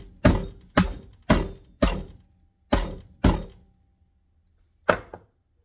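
A Shadow 2 Compact pistol is dropped repeatedly onto the ground hammer-first, giving seven sharp, loud thunks spaced about half a second to a second apart, each ringing briefly before silence.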